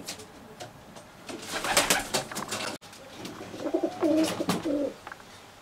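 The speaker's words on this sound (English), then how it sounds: "This is Les's old bird section." Racing pigeons coo in the loft section of a long-distance racing fancier's birdhouse, with several soft, throaty coos and a burst of warbling calls, fairly close, amid faint rustling.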